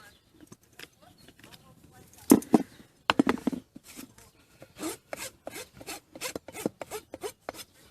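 A horse's hoof is rasped and trimmed up close, rhythmic rough scraping strokes in a steady series, with a person talking softly in between.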